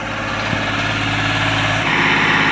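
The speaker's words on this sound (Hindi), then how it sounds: "नहीं भाई जी, करो स्टार्ट ट्रैक्टर।" A 41 hp tractor fitted for pulling a 16-disc harrow runs close by, its diesel engine idling in a steady low throb with a knock at the start and a slight rise in revs near the end.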